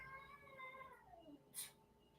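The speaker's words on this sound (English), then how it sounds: "That's my cat being mad at my dog for no reason." A grumpy old cat lets out a drawn-out, wavering angry meow directed at a dog, faint and somewhat distant, followed by a brief rustle.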